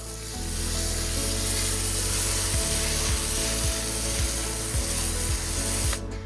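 An MJJC Pro V2 snow foam cannon fitted with a 1.25mm orifice nozzle sprays steadily and loudly up close, a continuous hiss over a pulsing pressure-washer drone that cuts off abruptly at the end.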